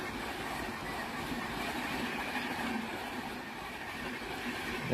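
An Indian locomotive-hauled train passes, producing a steady broadband rumble and rushing noise that holds evenly throughout without distinct clicks.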